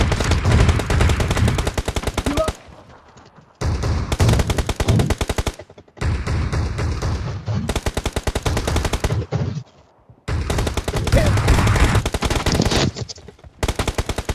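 Bursts of automatic gunfire from PUBG Mobile rattle loud and close in several long volleys, broken by short quiet gaps between them.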